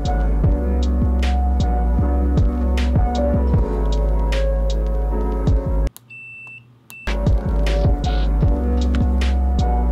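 A small 12-volt DC motor runs as a makeshift drill with a steady humming whine and throbbing harmonics, cutting out briefly for about a second before spinning back up, with faint beeping tones alongside.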